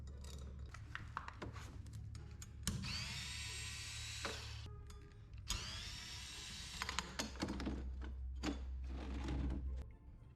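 A screw gun works on the wheel of an RV-12 aircraft during a brake and tire job, giving two close, high whirring runs of a few seconds each among quieter clicks and handling noises.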